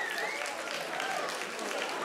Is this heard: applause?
yes